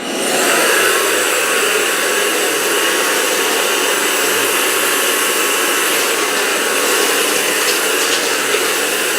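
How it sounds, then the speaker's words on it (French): A household vacuum cleaner sucks up sand spilled across the floor, a loud, steady roaring whine with a gritty hiss that runs unbroken for the whole stretch, with no talk over it. "Est-ce que l'aspi va aspirer?"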